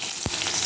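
Black cumin seeds and chillies frying in hot oil, a steady close sizzle with a single sharp pop partway through.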